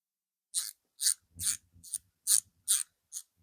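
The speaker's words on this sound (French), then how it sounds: "on serre, ça permet de plaquer le carter" A ratchet tightens bolts on the timing cover of a 1275 engine, giving seven crisp, evenly spaced clicking bursts over a few seconds. The clicks are close and clear, with faint low knocks under the middle ones and no talk.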